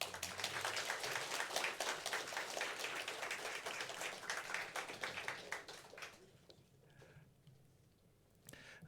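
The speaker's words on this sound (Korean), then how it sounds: "우리 인사드릴 때에 다시 한번 축복의 박수를 드리겠습니다" A church congregation gives a blessing round of applause during a Sunday service, sustained clapping for about six seconds that fades into quiet room noise, with faint voices afterward.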